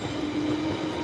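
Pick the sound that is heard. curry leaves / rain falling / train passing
train passing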